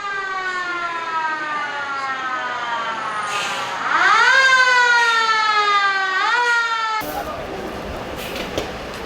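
A loud wailing fire truck siren sweeps up and down in pitch, then cuts off abruptly, leaving faint street ambience in Daegu, South Korea.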